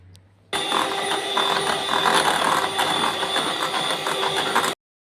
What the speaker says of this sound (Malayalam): ഒരു കപ്പ് വിപ്പിംഗ് ക്രീം എടുത്തിട്ടുണ്ട് അത് നമുക്ക് ബീറ്റ് ചെയ്തിട്ട് വരാം